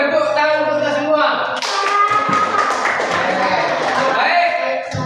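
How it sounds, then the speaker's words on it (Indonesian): A classroom of students breaks into loud, dense clapping after a teacher's voice, the rapid overlapping hand claps running steadily to the end. "Ya, tepuk tangan untuk kita semua."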